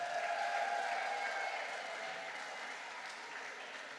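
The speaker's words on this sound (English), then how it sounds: "And a final round of applause for all our fellows and honorary fellows." An audience at a Royal Society of Literature summer party applauds its literary fellows and honorary fellows, a dense, even clapping from a sizeable crowd that fades slightly over four seconds.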